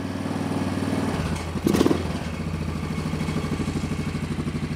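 A Yamaha Big Bear ATV engine running at raised idle, a steady close mechanical putter with rhythmic firing pulses after a brief rev and clatter partway through.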